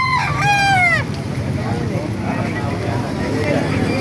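A rooster crows loudly and close by for about a second at a chicken market in Baliuag, Bulacan, followed by a noisy, busy background with faint murmuring.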